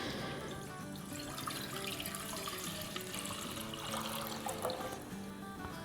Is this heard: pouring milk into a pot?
yes